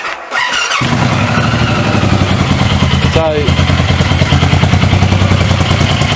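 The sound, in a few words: motorcycle engine starting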